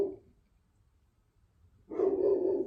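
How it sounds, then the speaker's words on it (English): A dog barks indoors in a single burst near the end, fairly close, after a quiet stretch with faint room noise; nobody talks. "guys, my dog."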